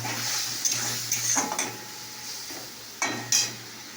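Spices and vegetables, potol (pointed gourd) and potato with salt and water, being stirred in a pan: soft scraping of a spoon with a few metallic clinks and a faint sizzle, close and quiet without talk.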